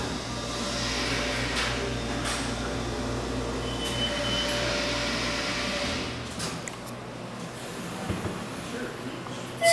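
Steady hum and whir of a Minnesota hydraulic elevator running in a test tower, continuous motor drone that shifts and eases toward the end, with faint talking over it.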